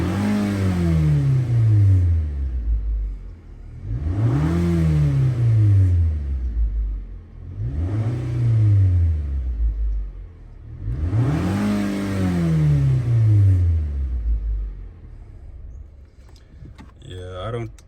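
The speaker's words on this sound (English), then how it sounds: "Now I'm gonna rev the engine." A 2016 Nissan Altima engine revs in park four times in a row, each rev rising and falling back to idle, loud and close, with a brief quieter stretch at the end.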